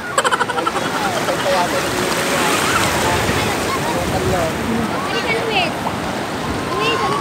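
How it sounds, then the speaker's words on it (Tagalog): Sea waves and a river at a sunny beach make a steady, loud rush of surf and flowing water, continuous throughout with faint voices underneath. "Ilog lang at saka yung dagat lang ang malakas."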